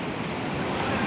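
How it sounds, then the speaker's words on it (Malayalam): Floodwater rushes under a bridge over its concrete base during heavy rain at Chooralmala in Kerala, a close, steady roar mixed with wind buffeting the microphone. "പാലത്തിൻ്റെ അടിയിൽ കോൺക്രീറ്റ് ചെയ്തതിൻ്റെ മേലത്തിടൊക്കെ നല്ല വെള്ളം"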